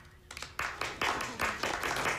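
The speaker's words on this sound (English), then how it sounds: "Please put your hands together in applause for Miss Winfrey" An audience breaks into applause for Oprah Winfrey, a burst of clapping from a crowd that comes in uneven pulses, moderately loud and brief.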